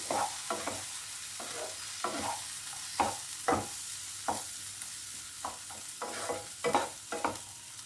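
Egg do pyaza masala fries in a pan while a spoon stirs it in repeated scraping strokes, roughly a dozen brisk scrapes over a continuous close sizzle, with no voices.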